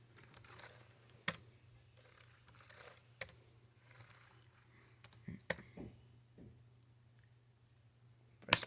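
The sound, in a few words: computer keyboard key clicks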